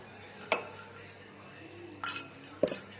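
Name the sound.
spoon mixing cream and sugar into a face scrub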